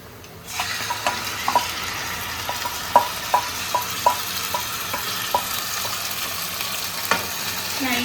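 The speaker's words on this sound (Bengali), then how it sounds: "এবার চিকেনটা দিয়ে দেবো।" Marinated chicken for chicken maharani fries in a pan over medium flame, a steady sizzle punctuated by a run of light, evenly spaced spoon taps and scrapes against the pan, close and clear with no talking.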